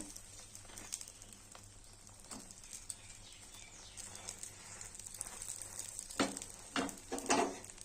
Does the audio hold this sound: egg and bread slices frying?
yes